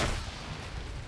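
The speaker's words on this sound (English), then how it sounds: "Another grenade goes into the center of the compound." A grenade explosion goes off in a Metaverse PvP match as a loud, rumbling blast that fills the whole moment. No talk is heard over it.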